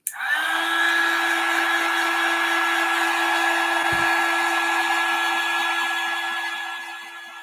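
A hair dryer runs close by for about seven seconds, drying glitter paint on nativity-scene ornaments in a one-stroke painting demo: a loud, steady whirring blow with a constant motor hum that tapers slightly at the end.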